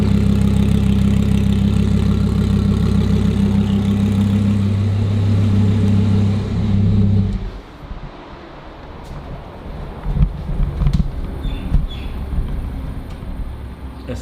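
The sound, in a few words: turbo car engine idling like tractor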